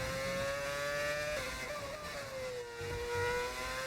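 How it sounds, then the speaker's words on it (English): A V8 Formula 1 car engine at Monza in an F1 racing game, a steady high-pitched whine that rises and dips slightly with throttle and gear changes, heard close and continuous with no talk. "It does feel great to hear V8s in Monza again."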